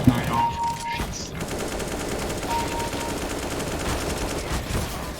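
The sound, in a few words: AK rifle gunfire in video game CS:GO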